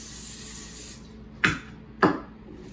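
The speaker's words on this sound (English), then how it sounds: "I'm going to spray the loaf pan," Cooking spray hissing onto a loaf pan: a steady hiss for about a second, then two short, sharp bursts of spray after a pause, close and clear in a quiet kitchen.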